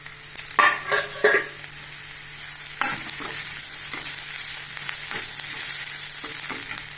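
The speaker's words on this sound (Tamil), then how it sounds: "இப்போ நம்ம கருவேப்பிலை போட்டுடலாம்" Onions and curry leaves sautéing in a pan for Thakkaali kuzhambu, a steady close sizzle with several sharp stirring scrapes and spatula knocks early on and softer ones later, no talking.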